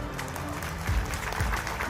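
Audience applause at the nineteenth anniversary celebration of Al Aqsa Public School in Kathikode, a brief steady patter of clapping from a seated crowd that swells slightly near the end.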